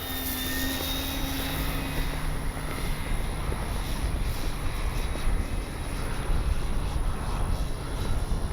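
A radio-controlled Corsair warbird model plane drones past with landing gear down, a steady engine hum under constant wind noise, no voices, the whine holding fairly even across the pass.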